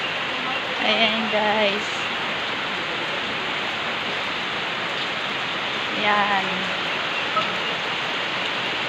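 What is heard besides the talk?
heavy rain pouring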